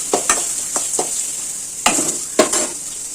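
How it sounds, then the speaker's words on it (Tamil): Curry leaves and mint sizzling in a hot pan with a steady frying hiss, punctuated by several sharp scrapes and taps of a utensil stirring. "இந்த ஹீட்லேயே வறுபடட்டும்."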